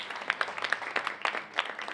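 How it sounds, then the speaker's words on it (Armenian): An audience at a film premiere applauds, with scattered, fairly soft hand claps going on for a couple of seconds, heard at a moderate distance. "ձեր ծափահարությունները։"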